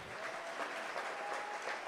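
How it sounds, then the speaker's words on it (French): Audience clapping during a French-speaking church event, a quiet, even patter of applause that sounds somewhat distant and lasts a couple of seconds with no voices over it. "On peut applaudir ça?"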